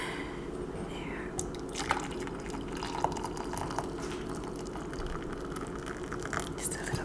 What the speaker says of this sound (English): Okay, I poured some water for us, so let me pour you a cup.